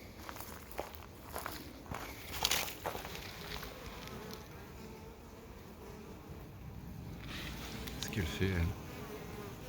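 Bees buzz densely in front of their hives with a hornet around, a constant close drone rising and falling, while footsteps shuffle nearby and a person speaks French briefly.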